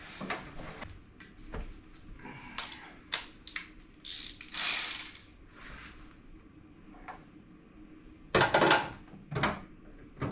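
A hand ratchet clicks in short bursts while undoing 10 mm bolts on a car door lock, with scattered rapid ticks, a few louder rasping runs and quiet pauses between.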